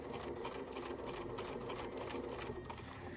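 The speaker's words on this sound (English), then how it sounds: "Again, we're sewing at a 1/4 inch seam allowance" A sewing machine stitches the fabric edges of a drawstring bag at a quarter-inch seam, a steady close whirring hum with rapid needle rhythm running continuously.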